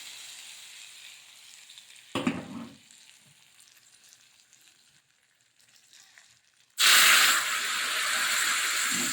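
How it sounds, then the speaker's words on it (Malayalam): Hot tempering poured into a prawn, mango and drumstick curry gives a sudden loud sizzling hiss that holds steady to the end, after a quieter stretch with a brief clatter and faint kitchen sounds. "ഇനി ഇത് കറിയിലേക്ക് ഒഴിച്ച് കൊടുക്കുകയാണ്"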